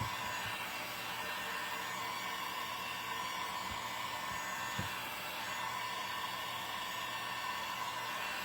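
A hair dryer blows steadily on glued buttons on a rustic cross wall art piece, a continuous even whoosh held at a constant level with no breaks.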